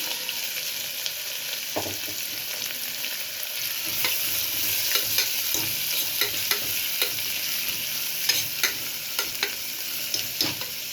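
Three large chopped onions sizzle in hot oil with fennel seeds and bay leaves for tomato rice. A steady crackling fry runs throughout, with repeated clicks and scrapes of a spoon stirring the pan.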